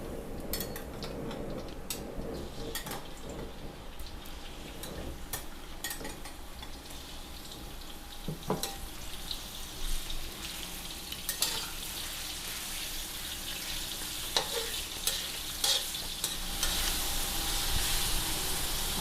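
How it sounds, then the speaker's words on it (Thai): Beef sirloin and garlic stir-fried in a pan, a steady close sizzle with intermittent clinks and scrapes of a utensil against the pan, growing slightly louder toward the end, no talk. "กระเทียมหอมแล้วค่ะ ผัดเลย"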